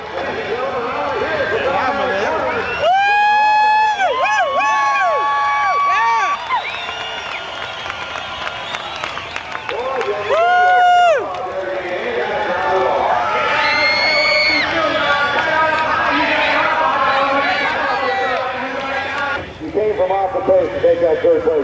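Crowd at a 1992 AMA National Pro Half Mile dirt track race in Lima, Ohio, cheering and applauding in a broad roar beneath an announcer's running commentary, with music in the background.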